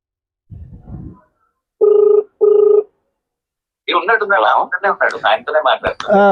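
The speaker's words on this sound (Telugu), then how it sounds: "లాస్ట్ కాల్ చేస్తున్నా ఇతనికి, చూద్దాం" Ringback tone on an outgoing phone call, two evenly spaced buzzing rings heard through the handset, followed by a voice talking.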